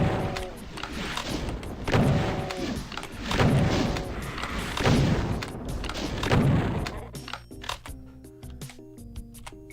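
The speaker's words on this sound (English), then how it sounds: "Please stop firing at me." Enemy gunfire in Doom, a rapid string of punchy shots in rhythmic bursts, loud and close, that thins out near the end into sparser clanking mechanical game sounds.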